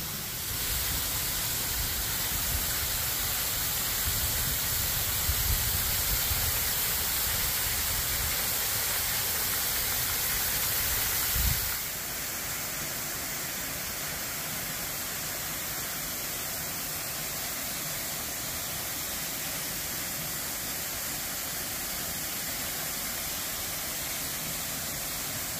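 Lick Creek Falls in Daniel Boone National Forest, Kentucky, gives a steady, hissing roar of falling water that stays fairly loud for about half the time, then continues softer and more even until the end.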